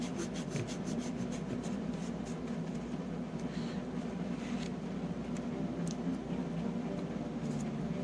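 Continuous steady rubbing on the contact pads of a 1987 Nintendo cartridge, a close, even scrubbing rasp with faint ticks, at constant level throughout.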